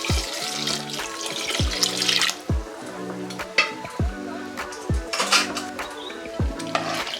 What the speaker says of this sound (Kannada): ಸ್ವಲ್ಪ ಇದಕ್ಕೆ ನೀರು ಹಾಕೋತಾ ಇದ್ದೀನಿ.